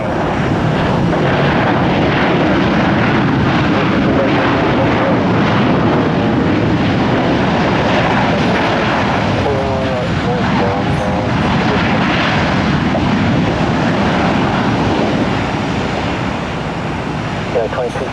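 A Spirit Airlines jet takes off at Tampa airport, its engines roaring loudly and continuously for the whole stretch as a broad, steady rumble, with speech faintly mixed in underneath.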